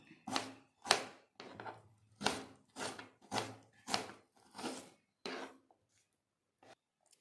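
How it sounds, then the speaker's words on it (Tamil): Chicken chopped into small pieces for chicken gravy, a knife striking a cutting board about nine times in an uneven rhythm, close and fairly loud, then tapering off into quiet with a couple of faint final taps. "சிக்கன் கிரேவிக்கு நம்ம பொடி பொடியாக கட் பண்ணிக்கலாம்."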